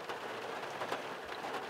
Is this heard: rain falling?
yes